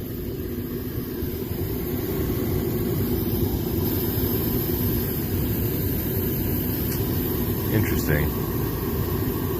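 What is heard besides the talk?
HVAC blower running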